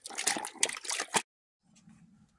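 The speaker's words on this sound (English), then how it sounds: "I do much more thorough rinse to get the tannins out so they don't continue to bond" Water rinses a veg-tanned deer hide, a close burst of splashing and sloshing that stops abruptly and gives way to a faint trickle.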